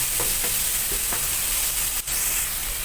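Chopped tomatoes for a tuna pasta sauce sizzle steadily in a pan, a constant frying hiss broken by a few soft stirring scrapes and one sharp clink.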